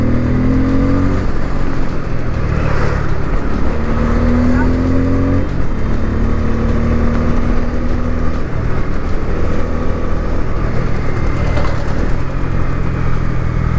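A Bajaj Pulsar N250 motorcycle is ridden at speed, its engine droning loud and close throughout with shifting pitch as it revs, mixed with steady wind rush.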